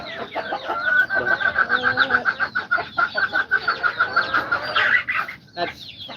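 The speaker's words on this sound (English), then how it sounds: "I bought these chicks a couple weeks ago. They're Rhode Island Reds" Rhode Island Red chickens and young chicks clucking and peeping on a small farm, a near, busy stream of overlapping calls lasting several seconds with a steady high cheeping throughout.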